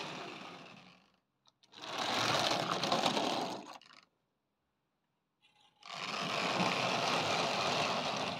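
An old Tri-ang Princess Elizabeth model locomotive runs around a layout, its small electric motor whirring in two loud close runs separated by quiet stops.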